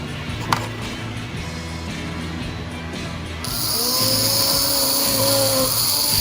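A tuned Aurora T-Jet slot car chassis starts running partway through with a steady high electric whine from its small motor, over a constant lower mechanical hum, close and fairly loud.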